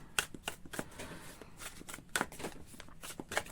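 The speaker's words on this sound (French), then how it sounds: "juste prendre mes cartes et puis les brasser" Tarot cards being shuffled by hand, a series of crisp riffling and snapping bursts that repeat at uneven intervals, close and fairly quiet, with no talk.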